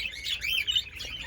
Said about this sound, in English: parakeets are fun, beautiful birds